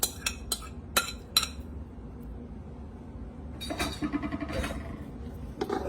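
Cooked egg noodles are stirred with wet ingredients for an Amish casserole, with a quick run of sharp clinks of a utensil against a dish, a pause, then a busier stretch of scraping and clattering mixing.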